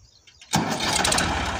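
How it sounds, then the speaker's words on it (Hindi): A Farmtrac 60 tractor engine cranks briefly and catches, jumping from near quiet to a steady running roar within about half a second. "स्टार्ट करो ट्रैक्टर को आप"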